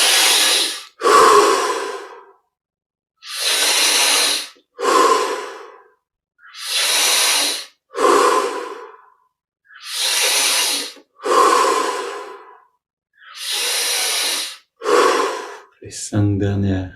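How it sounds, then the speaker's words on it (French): Deep, full breaths come in a slow cycle during a guided breathing exercise, with about eight loud, airy inhales and exhales alternating close to the microphone, separated by brief silences. "Les 10 dernières respirations ont plus d'air, plus d'oxygène,"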